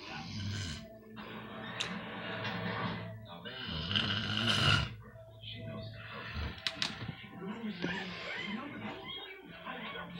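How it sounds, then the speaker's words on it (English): A man snores loudly in long, rough, rumbling breaths, each drawn-out snort rising and falling close by. "You're snoring loud."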